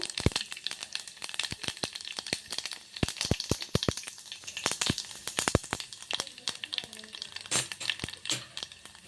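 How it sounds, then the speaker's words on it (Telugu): Mustard seeds, cumin, chana dal and urad dal pop and crackle in hot oil, sharp irregular snaps over a soft sizzle, close and moderately loud. "ఈ ఆయిల్ని హీట్ చేసుకొని పోపు దినుసులు వేస్తున్నాను."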